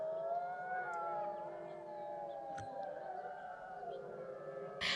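Wolves and wolf dogs howling together at a wolf dog sanctuary, a sustained chorus of long rising and falling tones that carries steadily through the whole stretch at moderate distance, with a brief sharp noise near the end.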